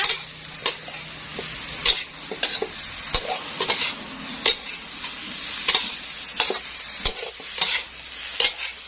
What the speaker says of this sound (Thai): เสร็จแล้วผัดคลุกเคล้าให้เข้ากัน